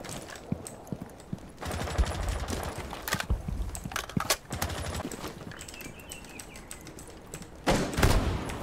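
Rainbow Six Siege gunfire arrives in sharp bursts of automatic shots and single cracks, with scattered quieter game sounds filling the gaps between volleys.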